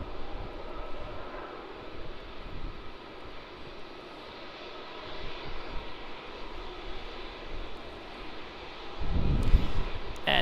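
A Virgin Boeing 737-800 jet on arrival at Melbourne Airport from the Gold Coast gives a faint, distant rumble that swells slightly toward the end, with a brief louder knock at the close.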